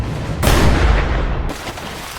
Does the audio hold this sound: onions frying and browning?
no